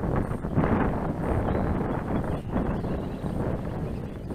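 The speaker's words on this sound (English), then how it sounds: "It is windy, man. Big time. Crosswinds too." Steady wind roars and buffets throughout, a dense broadband rush with gusty swells and crosswinds at an RC airfield during a Freewing AL37 model jet's first flight, with no talking.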